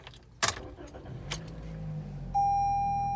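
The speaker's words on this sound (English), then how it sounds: "just press this button on the key fob and that key will fold out" A key folding out of a 2020 Toyota Corolla LE key fob gives a sharp close click, followed by faint key rattles and a low hum, then a steady electronic chime tone from the car.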